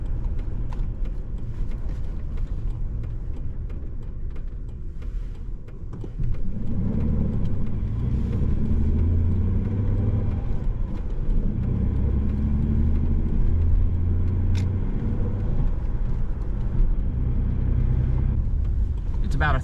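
A car drives along a road from Townsend toward Gatlinburg, a steady low rumble of engine and tires that swells a little louder partway through and holds constant with no talk.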